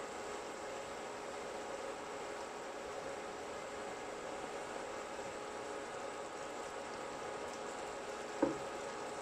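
Pizza fritta tomato sauce with oregano and sugar simmers on low heat in a pan, a steady soft bubbling hiss with one small tap near the end.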